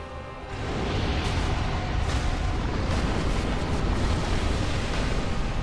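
A boss fire attack in Dark Souls roars as a dense, continuous rumbling blaze, loud and sustained with faint crackling bursts on top.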